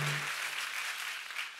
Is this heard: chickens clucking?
no